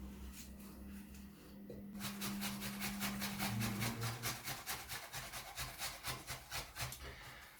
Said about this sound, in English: now we're doing the other agonizingly fun activity, the scraping of the apples